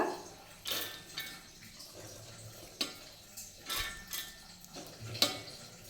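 Soaked chana dal tipped into a mixer jar for a lentil vada batter, giving several sharp clatters and knocks of the jar and utensils spaced apart amid quieter rustling, with no voices.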